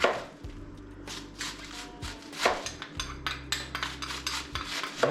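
Bang bang shrimp sauce with paprika and ketchup being mixed in a bowl, a run of close scraping and clinking strokes with a few sharper knocks, steady and unhurried, no voices.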